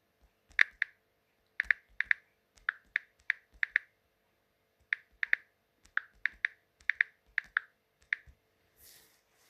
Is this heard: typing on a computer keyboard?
yes